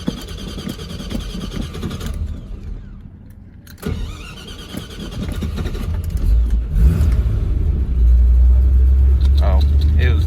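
A 1978 Corvette engine cranks and catches, then settles into a steady, loud low rumble that grows heavier toward the end, with people talking over it.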